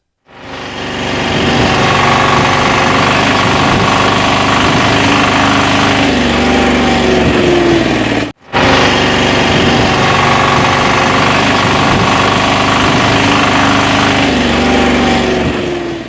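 Piaggio Ape auto rickshaw engine running with a loose reverse gear lever knocking, a steady loud close drone with rapid vibrating rattle, briefly cut off at about eight seconds, no talking.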